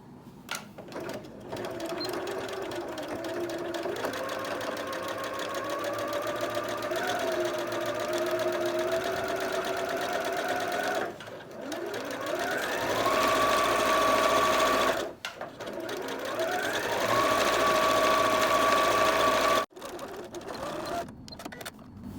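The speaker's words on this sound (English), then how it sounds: "Starting at a side seam, we're going to sew around the whole top edge about 1/2 inch down" A sewing machine stitches around the top edge of a fabric bag about half an inch down, running in long loud continuous bursts with rising and falling motor pitch and brief pauses between runs.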